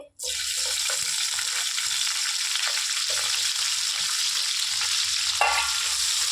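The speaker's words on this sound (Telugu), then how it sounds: "అదే ఆయిల్లో మనం మెత్తాలు కూడా వేసి ఫ్రై చేసేసుకుందామండి" Dried fish fry in oil left over from frying chicken, making a steady, dense close sizzle after a sharp splash as they go in, with a brief crackle burst near the end.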